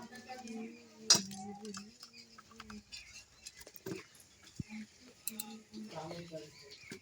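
Pieces of eggplant drop into a pressure cooker for steamed hilsa, giving soft irregular pats and light clinks close by at low level, with quiet kitchen handling between.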